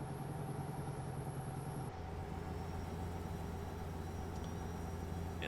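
A truck's supercharged six- or eight-cylinder engine in American Truck Simulator drones steadily, then shifts abruptly near the two-second mark into a rougher, lower rumble from the engine brake that continues to the end.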